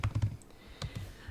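A few quick keystrokes on a computer keyboard during data entry in a tutorial, arriving in short bursts with brief pauses, fairly close and quiet, with no speech.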